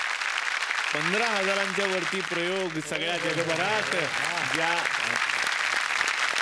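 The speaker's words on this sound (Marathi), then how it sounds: "जोरदार टाळ्या." A studio audience claps loudly and steadily in a continuous wave, while someone speaks clearly over the applause throughout the middle of the stretch.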